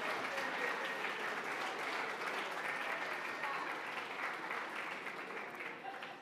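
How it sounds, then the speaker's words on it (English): A gala audience applauds steadily at a distance at the Young Judaea/Camp Tel Yehudah Forward Together Gala 2022, with a soft, continuous wash of clapping that tapers slightly at the end. "Please give yourselves a round of applause"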